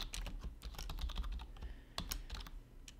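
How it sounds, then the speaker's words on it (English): Rapid, uneven keystrokes clatter on a computer keyboard while someone types in a code editor, close and fairly quiet with short pauses between bursts. "let's open this file in the editor and type something"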